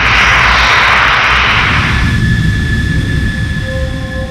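A fighter jet's engine roars loudly and close, a broad rushing blast that softens after a couple of seconds into a steady rumble with a thin whine, no voices present.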